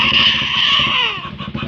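Loud vehicle, likely a motorcycle, passing close along a rural Thai road, its engine roar sustained and then sliding down in pitch as it moves away.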